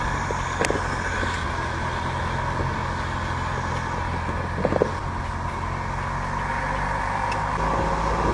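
A Bellier B8 Cabriolet on the move, its small engine and road noise forming a steady, even drone with a few light knocks and clicks, and no voices.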